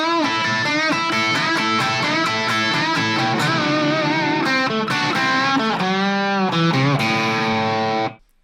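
A distorted Squier Affinity Telecaster electric guitar plays a sustained lead line with bent and vibrato notes, loud and continuous, ending abruptly.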